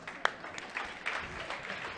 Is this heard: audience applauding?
yes